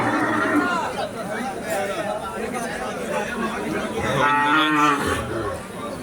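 Cattle lowing amid a busy cattle market crowd at Gobindaganj bazaar, Chhatak, with chatter throughout and a louder moo rising near the end.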